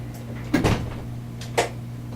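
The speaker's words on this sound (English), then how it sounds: "Back door closing." A back door closes somewhere inside a country club building during a paranormal investigation, heard as two muffled thuds a second apart over a steady low electrical hum, with no talking.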